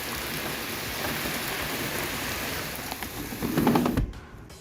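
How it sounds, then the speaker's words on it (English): Heavy rain pours down in a dense, steady roar of drops on surfaces, swelling louder near the end before cutting off abruptly. "you're suddenly getting a bunch of rain dumped on you"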